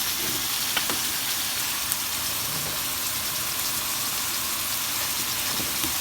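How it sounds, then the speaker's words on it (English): Ground beef seasoned with Montreal steak seasoning browning in a pan for a crockpot beef stew, giving a steady, close, continuous sizzle and crackle throughout with faint stirring clicks and no talking. "I just want to brown this meat"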